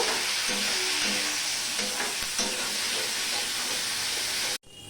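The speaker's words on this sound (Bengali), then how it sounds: "উচ্ছেগুলো ভাজা হয়ে গেছে ভালোভাবেই" Bitter gourd fries in a pan with a little turmeric, making a dense, steady sizzle with light stirring. It is close and loud with no talking, then cuts off abruptly at the end.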